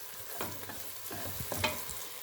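Thick tuna curry being stirred in a pot, soft repeated scraping strokes with a faint bubbling sizzle underneath, close and quiet, no voices.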